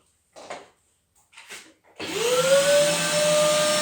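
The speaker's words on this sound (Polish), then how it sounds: "sprawdźmy siłę ssącą odkurzacza" A Cyklon 2400 vacuum cleaner starts after a few short knocks and handling sounds, its motor spinning up to a loud, steady, whining drone that holds close and continuous.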